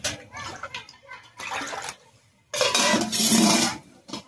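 Water poured from a vessel into washed lentils in a pot before cooking over a wood fire, with bursts of splashing and clinking metal, strongest near the end, and a voice talking in between.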